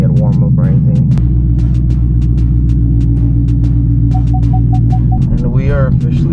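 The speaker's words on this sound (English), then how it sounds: "I have my car blasting over here" A 2024 Ford Mustang GT with drag wheels idles just after start-up, its exhaust giving a loud, steady, deep rumble close by for several seconds, with a few brief higher tones and shifts riding over it.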